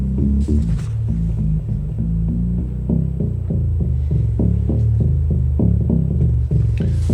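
Sub bass waveform played on a Proteus 2000 synthesizer, heard as a steady stream of deep, booming throbs pulsing about three times a second over a constant low hum, loud and with nothing else heard.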